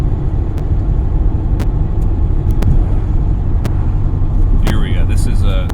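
A 1966 Porsche 912 engine drones steadily in fourth gear while driving, a loud, continuous low rumble with light clicks and a brief rattle near the end.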